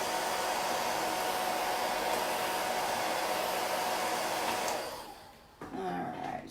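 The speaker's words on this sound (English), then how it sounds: "you can actually take your hair dryer, get the drying started" A hair dryer blows steadily and loudly for about five seconds while drying ink on a Christmas stocking, then cuts off briefly and whirs back up near the end.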